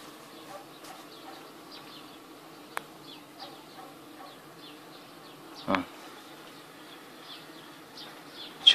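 Honeybees hum faintly around a hive, a thin, wavering buzz of wings passing near and away, broken by a few soft knocks and one sharper tap.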